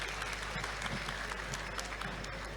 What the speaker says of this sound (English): Applause in the meantime if you want to.